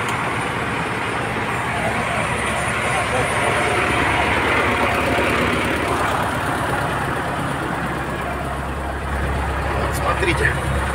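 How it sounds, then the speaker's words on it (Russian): An LTZ-60AB tractor engine runs after a cold start with a steady, rough, loud idling drone that continues unbroken, and someone talks over it. "Холодный запуск трактора. Как двигатель работает, вы слышали?"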